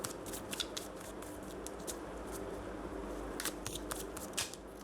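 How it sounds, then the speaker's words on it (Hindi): Tarot cards are gathered up and shuffled by hand, giving a close, steady papery riffle with soft crackles and sharper snaps scattered throughout. No one speaks. "अब मैं एक साथ उठाऊंगी सारे कार्ड्स."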